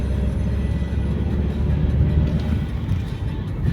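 An Audi A6 2.0 TDI, suffering power loss and black exhaust smoke, held at full throttle, giving a steady loud low diesel drone that rises only slightly over several seconds with no talk.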